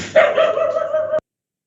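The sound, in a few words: dog barking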